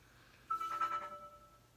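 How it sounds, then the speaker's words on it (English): A son's mobile phone rings briefly in the room during a beauty product unboxing, a short, moderately loud electronic ringtone phrase that fades quickly, with no talk over it. "Oh, there went my son's phone."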